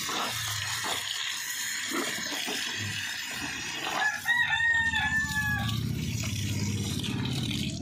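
Chicks and chickens on a small farm give scattered clucks and peeps at first, then a rooster crows loudly nearby in the middle, followed by a low, steady background rumble.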